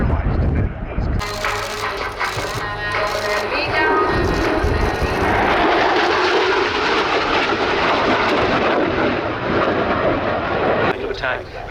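A Swiss Air Force McDonnell Douglas jet flies a display at an airshow, a loud, sustained roaring engine rush that swells and fills the air, with an announcer talking over it.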